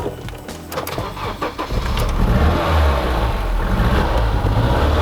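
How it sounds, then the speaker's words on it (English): A BMW E30 M3 engine cranks with a few clicks and whirs, then catches and settles into a loud, steady running rumble with mild revving swells. It is close and heard alone without speech. "let's give the E30 M3 a start"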